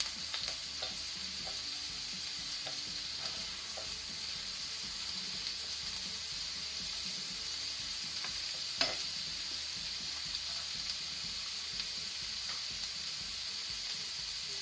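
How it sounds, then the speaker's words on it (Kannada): Chopped onions fry in hot ghee with a constant close sizzle and crackle, broken by faint scrapes and clicks of stirring; no one speaks. "ತುಪ್ಪ ಬಿಸಿ ಆದ ನಂತರ ಆನಿಯನ್, ಈರುಳ್ಳಿ, ಇದು ಸ್ವಲ್ಪ ಲೈಟ್ ಬ್ರೌನ್ ಆಗೋ ತನಕ ಇದನ್ನು ನಾವು ಫ್ರೈ ಮಾಡುವ ತುಪ್ಪದಲ್ಲೇ"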